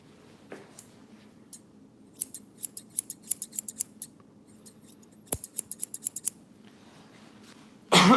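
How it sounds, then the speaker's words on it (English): Scissors snip hair close up in quick runs of small crisp cuts, two bursts of rapid snipping separated by a short pause. "making smaller snips and rounding the scissors"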